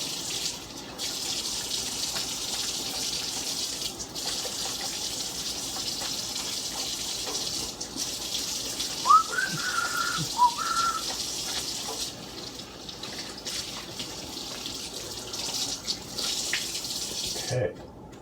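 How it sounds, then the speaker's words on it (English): Tap water runs steadily into a kitchen sink as hands are washed during pork shoulder preparation, a soft continuous hiss with a few faint clinks. "Most important, always wash your hands."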